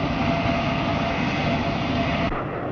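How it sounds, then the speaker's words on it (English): A BAC 111 short-haul jet airliner produces a steady, loud broadband roar that holds constant throughout, with no voices present. "the BAC 111, a 550-mile-an-hour short-haul jet airliner"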